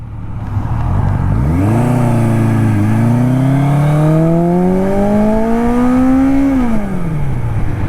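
A 1981 Suzuki GS850 cafe racer motorcycle engine revs loudly, its pitch climbing steadily then dropping, close by and continuous with no talking.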